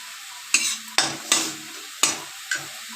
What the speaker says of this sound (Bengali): শাক হচ্ছে, লাল শাক